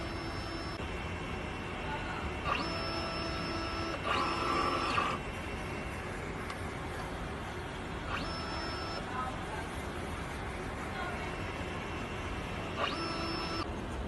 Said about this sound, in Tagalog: Ganito po ang tamang pag-head clean.